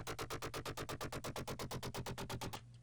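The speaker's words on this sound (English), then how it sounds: "rather simple kind of growl bass coming from Serum here." A simple growl bass patch from the Serum synth pulses in a steady rapid rhythm of about twenty gritty, buzzing hits, fairly quiet, ending abruptly into near silence.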